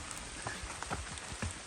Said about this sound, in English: It's constant rain